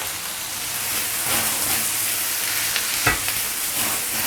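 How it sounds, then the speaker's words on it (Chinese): Tomatoes and tomato sauce being stir-fried in a pan: a steady, close, broadband sizzle with scraping stirs throughout and one sharper clack of a utensil near the end. "这番茄炒到这种有果胶出来之后呢，接下来我们下点番茄沙司"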